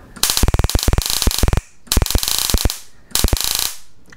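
A homemade nitrogen laser fires with sparks jumping across its capacitor at 1.7 bars. Three loud, close bursts of rapid buzzing snaps crackle harshly, with short silent gaps between them.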